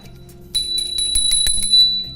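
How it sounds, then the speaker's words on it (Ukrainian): A school bell rings to open a lesson, a loud, close, steady metallic ringing with sustained high tones lasting about two seconds, with no voice. "Продзвенів дзвінок розпочинаємо урок ментального здоров'я"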